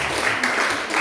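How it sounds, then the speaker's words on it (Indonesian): A short burst of applause at a Sunday church service, a dense wash of many hands clapping together in a large room. "Berikan tepuk tangan yang paling meriah."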